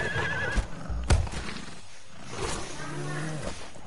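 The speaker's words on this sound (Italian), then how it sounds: "C'è stato un orso in baita." Bear in Conan Exiles roaring in a few harsh bursts, close and loud, with thumps and game noise around it.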